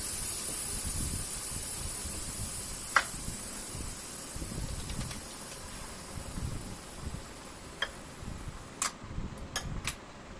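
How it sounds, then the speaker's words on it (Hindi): Steam escaping from a pressure cooker's whistle in a home kitchen, a steady close hiss running throughout with a few sharp clicks and ticks near the end, no talking. "जो कुकर में सीटी भरी होती है वो निकाल रही हूँ"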